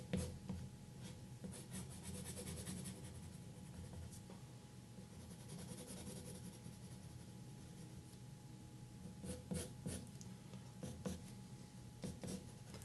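A pencil sketches the fur of Sven's other eyebrow in a drawing of the Frozen reindeer, making soft continuous scratchy strokes with a few brisker flurries. It sounds quiet and close, with no voices.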